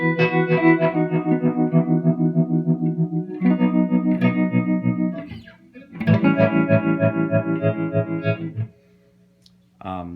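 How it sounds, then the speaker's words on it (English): Electric guitar run in stereo through an effects pedal into two separate amps, playing sustained chords with chorus and distortion, a continuous loud passage, a brief gap, then more strummed chords before it stops. "So you get something kind of like this, where the two separate signals are going to two separate amps."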